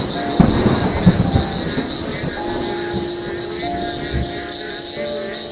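A night rainstorm with thunder in a cartoon, a steady rain hiss with low rumbles and a few thumps early on under a high insect-like drone.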